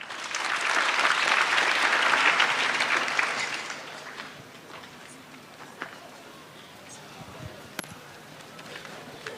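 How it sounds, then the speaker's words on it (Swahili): An audience claps at a students' career fair in Murang'a East, Kenya: loud, dense applause for about four seconds, then it thins to scattered faint claps and light crowd noise. "Makofi tafadhali."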